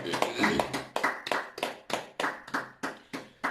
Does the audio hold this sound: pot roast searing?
no